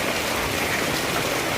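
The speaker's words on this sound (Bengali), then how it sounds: "ভীষণ ভয়ানক বৃষ্টি।" Heavy rain pouring down in Raghunatganj on waterlogged streets, a dense, steady hiss of falling water close by with no voices.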